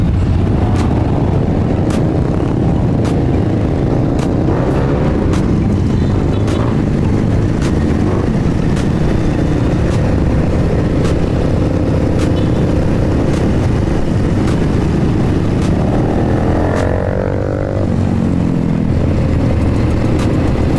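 Several motorcycles on a group night ride rev and rumble continuously close by, engine drone steady throughout with pitch sweeps rising and falling as throttles are blipped, loud and unbroken.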